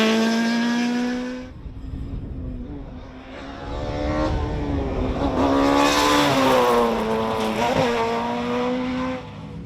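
Rally cars race at night through Champagne villages and vineyards during the 2015 Rallye Epernay Vins de Champagne, engines revving hard and rising in pitch as they pass close by, with a brief lull before a louder, sustained pass.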